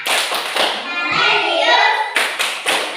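A school class does a rhythmic clapping routine, with sharp group claps in quick bursts at the start and end and children's voices chanting in between.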